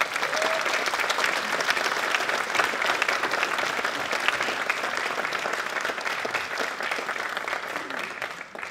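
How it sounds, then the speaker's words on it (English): A large audience at a college student awards ceremony claps steadily for award winners' families and teachers, sustained dense applause that holds for several seconds before easing slightly at the end. "can we have a round of applause for everybody"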